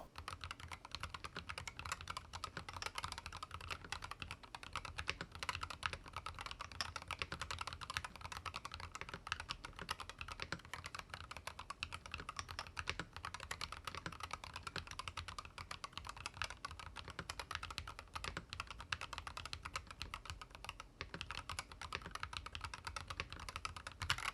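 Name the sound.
typing on magnetic switch keyboard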